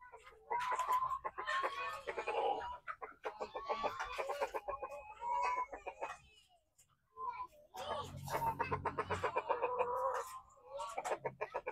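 Young crossbred chickens clucking in a backyard coop that also houses Lhasa Apso dogs, with steady nearby clucks and calls through most of the stretch, a short lull midway, and faint voices underneath.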